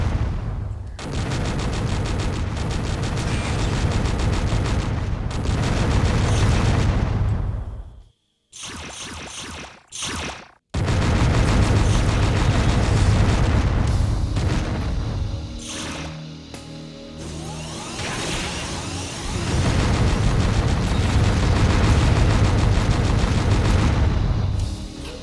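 Dense, loud barrage of missile blasts and weapon fire in the Descent 2 video game, with sustained rumbling booms broken by two short silent gaps, then more continuous explosions.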